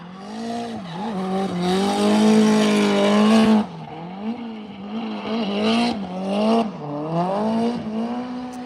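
A high-powered Nissan S15 drift car at Ebisu Circuit in Japan howls loudly at high revs, its engine note dipping and climbing through gear changes and throttle lifts, with tire squeal mixed in.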